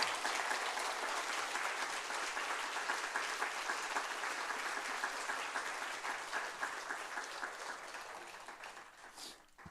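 A church congregation at a Friday worship service applauds to welcome a missionary speaker, dense sustained clapping that carries on for several seconds and then fades out at the end.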